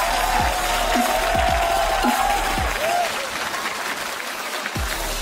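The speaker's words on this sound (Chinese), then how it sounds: "掌声有请孤家寡人" Sustained audience applause from a studio crowd welcoming comedian Wang Jianguo onto the stage at a televised roast show, steady and dense throughout with a few thumping low hits.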